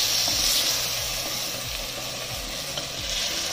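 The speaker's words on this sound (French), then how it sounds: "je vais rajouter ma purée de tomates" Fresh blended tomato purée hits a hot pan with a broad, steady sizzle, while a spoon scrapes and stirs in a slow repeating rhythm underneath, close and continuous with no talking.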